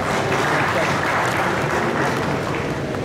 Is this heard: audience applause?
yes